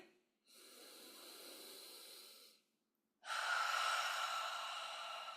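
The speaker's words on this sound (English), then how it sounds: "You're going to breathe." Two long, slow breaths during a lymph drainage breathing exercise, a soft airy inhale followed by a gap and then a louder, fuller exhale, close to the microphone with no talk.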